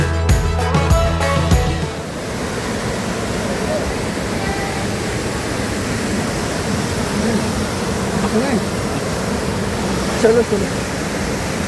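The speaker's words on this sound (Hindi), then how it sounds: "ये है कपिल धारा वाटरफॉल और यहाँ पर पानी कई फीट की ऊंचाई से नीचे गिरती है।" The Kapil Dhara waterfall at Amarkantak, where water drops several feet, gives a steady broad roar of falling water that fills the scene, with a brief voice and some background chatter over it.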